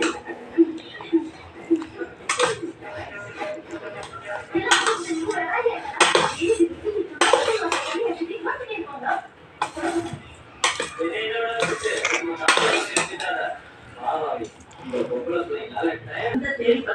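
Pressure cooker opened in a home kitchen while coriander biryani is made, with metal lid clatters, scraping and clinking of pots and utensils in irregular bursts as a voice talks throughout.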